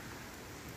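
Steady rain pouring during Cyclone Remal, a dense, even hiss with no gaps and no voices, sounding close and continuous across the whole moment.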